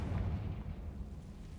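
The Confringo explosive spell in Hogwarts Legacy goes off as a deep rumbling blast that rolls on with a low, heavy boom and fades slowly at moderate volume.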